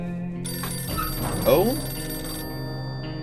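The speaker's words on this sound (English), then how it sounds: "Was that a phone call?" A telephone rings in the survival video game 60 Seconds, a warbling electronic ring over game music, with a brief spoken interjection.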